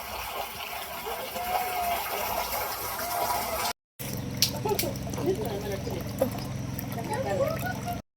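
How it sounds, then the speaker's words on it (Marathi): Water running from a tap into a container at a rural home, a steady gushing pour that briefly cuts out midway and then resumes, with faint voices in the background. "आता पाणी भरून घेऊन"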